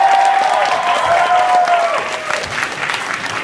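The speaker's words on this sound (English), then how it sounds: "So give a round of applause for all the talent that's been here so far." Audience applause at a university event for the evening's performers, dense and loud clapping throughout the short stretch with some crowd noise mixed in.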